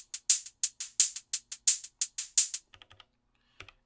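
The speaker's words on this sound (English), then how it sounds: "I just used the open hi-hat and programmed in variations of the amp decay and" A synth open hi-hat with varied amp decay and filter plays a brisk run of bright, hissy hits of differing lengths, then a few faint, clipped ticks, with nothing behind it.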